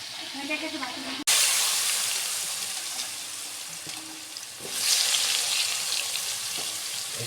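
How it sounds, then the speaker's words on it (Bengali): Potatoes frying with fish in a pan for a Bengali fish kaliya, with a loud hiss that bursts in suddenly and sizzles on steadily, swelling again partway through, close up. "মাছের সঙ্গে আলু ভাজাটা হচ্ছে"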